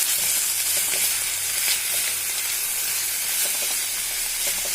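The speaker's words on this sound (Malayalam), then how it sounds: "മുരിങ്ങയില ഇട്ട് കൊടുക്കാം. നന്നായി മിക്സ് ചെയ്ത് കൊടുക്കാം." Drumstick leaves stir-fry in a hot pan, giving a steady, close, bright sizzle and hiss with faint stirring scrapes underneath.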